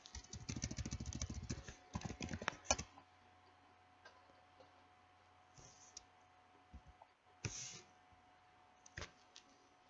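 Typing on a computer keyboard: a fast burst of close key clicks at the start, a second short flurry, then sparse isolated taps and clicks against a quiet room background.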